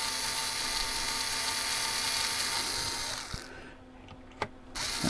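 A spinning drill bit scores into the plastic shell of a Haslab Razor Crest engine model, a steady high-pitched whine that runs for about three seconds, cuts off abruptly, then gives a few brief bursts, close and loud.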